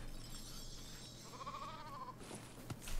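A sheep in the LEGO Fortnite video game gives a short, faint bleat midway through, set against low ambient game background noise.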